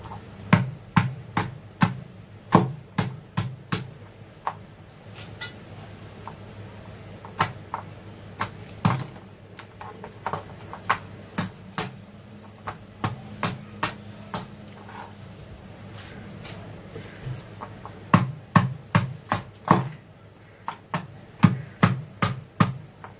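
Mud crab pieces for a crab masala being lightly crushed and cracked, heard as sharp, dry knocks in quick irregular bursts, thinning out in the middle before a dense cluster of taps near the end.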